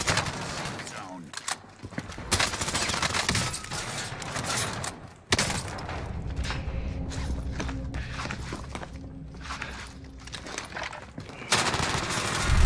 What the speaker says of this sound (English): After the nerf, the OTS is still the best SMG in the game.